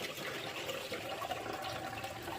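Sticky rice being rinsed and swirled in a bowl of water, a continuous close sloshing and trickling wash with no talk.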